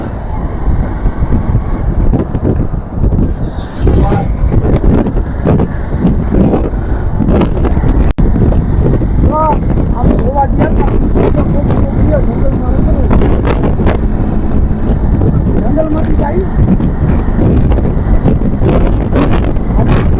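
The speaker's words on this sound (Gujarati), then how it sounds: "ફૂલ ઠંડી હવા આવે છે." Cold wind gusting through the Gir forest in Gujarat, a loud continuous buffeting roar across the microphone with intermittent stronger blasts, while someone talks briefly over it.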